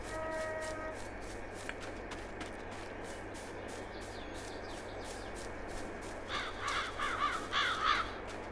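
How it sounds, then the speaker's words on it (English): Crows cawing in the Farming Simulator 22 farm game on PS4: a series of repeated harsh caws with a steady rhythm, moderately distant over a constant low ambient hum, with a louder cluster near the end. "Bloody crows."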